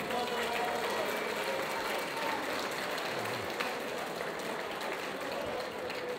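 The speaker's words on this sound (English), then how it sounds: "let's have a round of applause" Audience at a Muay Thai boxing event applauding a fighter in the ring, a steady, dense wash of clapping from a crowd that holds evenly for the whole stretch, with an announcer's voice faintly beneath.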